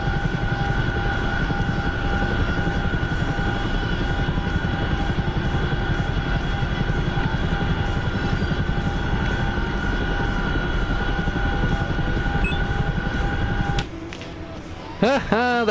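Aircraft engines drone loud and constant through a combat flight in the DCS video game as a Fulcrum jet is shot down, before the roar cuts out near the end into sharp electronic tones.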